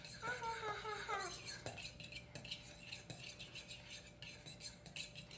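Fork whisking eggs in a bowl for scrambled eggs with Parmesan, a steady rapid clinking and scraping rhythm over background hum, with a voice and sung words near the start.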